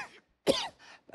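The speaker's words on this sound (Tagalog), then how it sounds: "pasensya na, kasi may ubo ako eh." One person gives a short, harsh cough, a throat-clearing burst followed by a fainter second cough, close to the microphone with silence between them.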